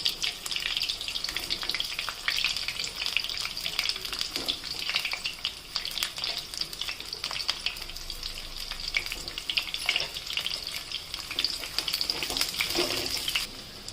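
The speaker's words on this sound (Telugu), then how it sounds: "చూడండి ఇలా ఫ్రై అవ్వాలి కాకరకాయ ముక్కలన్నీ" Bitter gourd pieces frying in oil in a kadai, a continuous crackling sizzle with scattered sharp pops and occasional stirring scrapes, close and moderately quiet with no talk.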